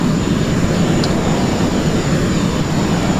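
An F-16 Falcon jet in the FSX flight simulator game gives a steady, loud, continuous engine roar with a broad rushing noise that holds evenly throughout.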